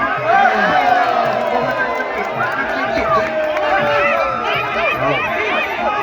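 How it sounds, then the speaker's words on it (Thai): Two rival cheering sections at a Thai boxing match roar continuously, a dense crowd din with shouting voices and rising calls throughout, while a commentator talks over it. "สุดยอดครับกองเชียร์2 ฝั่งนี้"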